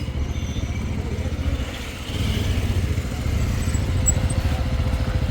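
Several motorcycle engines, including an Interceptor and a Jawa 42, idle in a fuel queue in Kaza with a steady, throbbing low rumble nearby, a slightly louder surge joining partway through.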